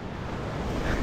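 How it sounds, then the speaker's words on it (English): Steady, soft wash of sea water moving in and out along the shore at Phuket, Thailand, a continuous low surf rumble mixed with some wind, with no one speaking. "This is where the water comes in and out"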